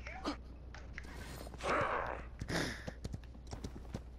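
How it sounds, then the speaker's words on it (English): Horse hooves clop unevenly in a video game, mixed with scattered thumps and whooshing game effects at moderate volume, with no talk. "Why is my horse going so slow?"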